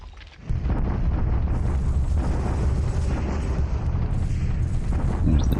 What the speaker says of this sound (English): There's the Japanese bombardment.